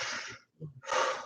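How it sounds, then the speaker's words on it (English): A person doing slow aerobics stretching takes a big audible breath, a loud airy inhale followed by a short pause and another strong breathy burst, close up with no talk. "Take a big breath."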